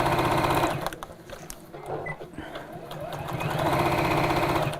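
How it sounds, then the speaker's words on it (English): A sewing machine runs stitching around the top of a fabric gift bag, its rapid needle chatter steady and close, easing briefly mid-pass before picking back up to full speed. "Just going to sew around the top"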